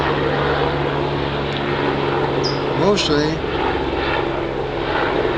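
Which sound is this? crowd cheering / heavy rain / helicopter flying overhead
helicopter flying overhead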